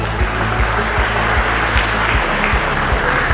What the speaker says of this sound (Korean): 한판의 검도교실 출판기념회를 뜨거운 박수와 함께 시작하도록 하겠습니다